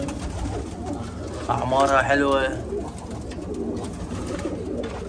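Pigeons on a rooftop give one clear, warbling coo lasting about a second in the middle, set against low background noise while someone talks nearby.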